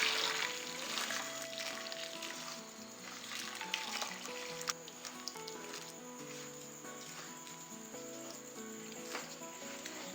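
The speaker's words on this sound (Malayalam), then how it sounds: "തിളച്ച വെള്ളം പൊടിയിലേക്ക് ഒഴിച്ചു കൊടുക്കാം." Boiling salted water is poured into flour to make a dough for Thalassery kalmas, a steady soft hissing stream that lasts throughout at moderate level with faint background tones.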